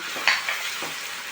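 Tomato puree goes into a pan of onions fried pink in oil, giving a brief sizzling hiss with a spoon scraping and stirring, close and alone.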